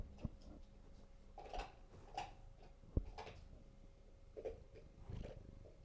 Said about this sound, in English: Purr into the mic for people.